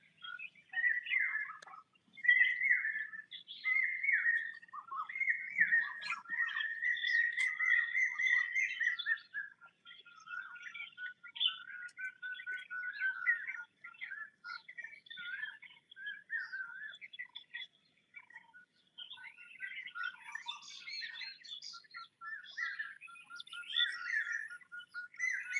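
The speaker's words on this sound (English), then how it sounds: "you just listen to the bird sound" Birds sing and chirp steadily during a quiet nature walk, with several overlapping calls, whistled phrases and tweets that come in bursts at moderate distance against an otherwise silent background.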